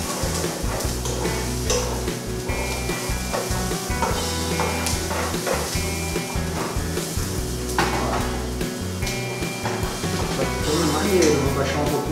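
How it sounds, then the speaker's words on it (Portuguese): Onion and garlic fry in a hot pot for rice, a steady close sizzle with stirring scrapes and clinks, while a voice talks over it. "Agora que a cebola já está pegando uma corzinha, tá na hora de tacar o alho."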